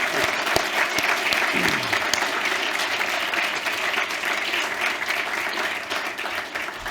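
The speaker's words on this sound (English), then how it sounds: "let's give them a big round of applause today" Sustained audience applause at the NodeFest 2023 conference after a talk, a steady dense wash of many hands clapping at moderate loudness for the full length, with a faint voice briefly underneath.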